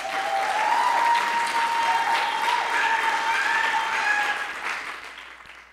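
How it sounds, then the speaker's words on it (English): An audience at a public library talk in Seattle applauds in a sustained, moderately loud burst of clapping that swells and then fades out over several seconds. "I love the applause everywhere, bring it on."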